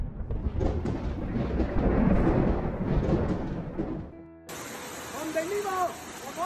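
Torrential rain pours during a historic flood in Guangxi, China, a dense steady roar of water. Partway through it shifts to a different, clearer scene where rushing water continues beneath what sounds like faint voices.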